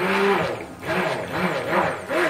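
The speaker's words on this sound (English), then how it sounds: "I'm going to use my submersion blender" An immersion blender whirs through cold process soap batter, its motor pitch rising and dipping in repeated waves as it is moved around the container, steady and close.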